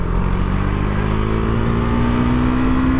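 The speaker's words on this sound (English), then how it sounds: "that was one memorable motorcycle" A motorcycle engine drones steadily and loud, its pitch slowly rising as it revs up nearby.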